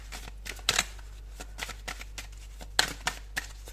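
Tarot cards slide and flick against one another as they are drawn from a deck, a series of soft papery snaps and rustles at close range over a steady low hum.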